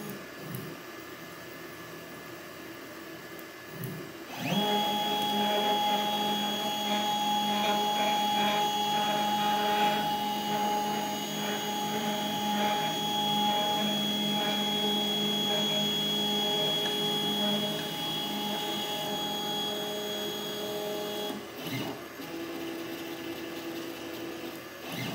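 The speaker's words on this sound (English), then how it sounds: "And you'll notice that the machine is homing," A CNC machine homes under an offline controller with an LCD touchscreen, its stepper motors whining in a steady tonal hum for about seventeen seconds at moderate volume before falling quiet, with faint room hum before and after.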